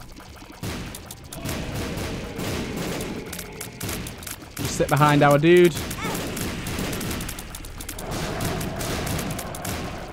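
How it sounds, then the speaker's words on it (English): Explosions burst over and over in The Binding of Isaac Afterbirth+ as a dense, continuous barrage, with a player talking over the din. "It's just going to be explosion after explosion after explosion."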